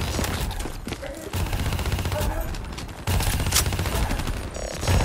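The Dredge, a burst-fire machine gun in the Call of Duty Black Ops 3 campaign, fires dense, loud, rapid volleys almost without pause, close and continuous over battle noise.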